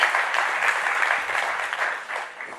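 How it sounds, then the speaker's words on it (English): A keynote audience claps in a continuous dense round of applause at a steady, fairly loud level, easing off slightly near the end. "Okay, yeah, you can clap."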